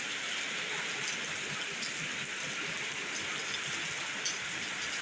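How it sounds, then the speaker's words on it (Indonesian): Heavy rain driven by strong wind in the Lungsalam area of Indramayu, a dense, steady hiss of downpour that stays loud and even from start to finish, with no voices. "Hujan gede, anginnya gede."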